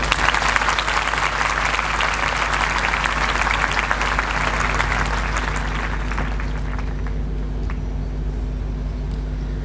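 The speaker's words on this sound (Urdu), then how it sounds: "میں دعوت دیتا ہوں آپ سب کی تالیوں میں ڈاکٹر منیبہ ملک کو" An audience at a talk claps steadily to welcome a speaker to the stage, a dense wash of applause that thins and fades out after several seconds.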